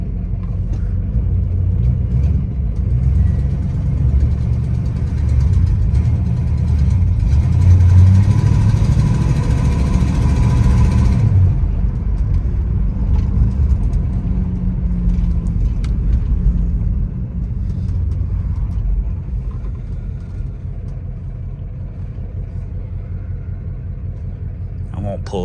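A 1965 Plymouth Belvedere II with a carbureted engine and a worn accelerator pump idles roughly, a steady low rumble that swells briefly mid-clip and then settles, with a person talking over it.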